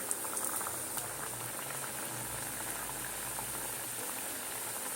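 Thekua dough fries in hot oil with a continuous fine sizzle and bubbling. It is steady and close, with a few small pops near the start and no talk over it.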